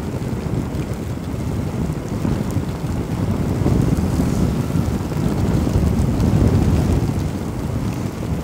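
Heavy monsoon rain and gusting wind buffet a rider on a motorcycle trip from Bhind to Gwalior, a loud continuous roaring wash with wind rumble swelling and easing, no talk.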